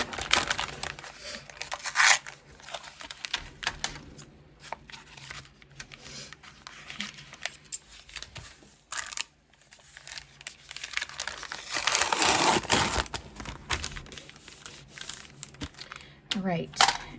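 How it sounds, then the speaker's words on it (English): Plastic bag being opened and crinkled while making a bulletin board, with repeated rustling and crumpling bursts that swell and fade, loudest near the end, and a few quiet pauses between them. "I'm just going to open this bag up"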